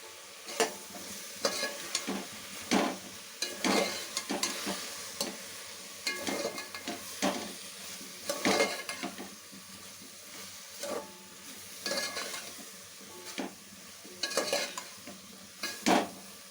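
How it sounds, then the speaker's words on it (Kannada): Sambar powder fries and is stirred in a pan. A soft sizzle runs throughout, and repeated spoon scrapes and clinks against the pan come at an irregular rhythm. The sound is close and moderately quiet, with no voices. "ಇಷ್ಟು ಹಾಕಿ ಚೆನ್ನಾಗಿ ಫ್ರೈ ಮಾಡಿ ಅದನ್ನು ಮಿಕ್ಸ್ ಆಗಲಿ."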